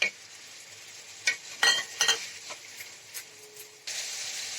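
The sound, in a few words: spiced water added to frying onions, sizzling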